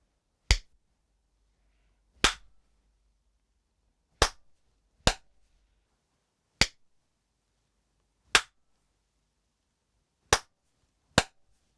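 Eight sharp hand claps, sounded one at a time with irregular gaps of about one to two seconds, each crisp and isolated against near silence, into a Wisycom wireless bodypack microphone during a limiter test.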